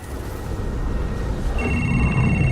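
A telephone rings in the video game Beyond Two Souls, its bright electronic tone starting partway through over a steady low rumble of game ambience.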